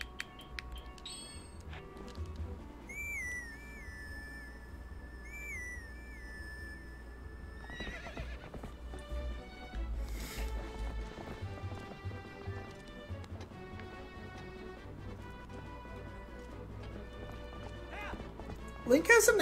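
Horse hooves in the video game Zelda: Twilight Princess clip-clop steadily, with occasional whinnies and game music chimes layered over the galloping.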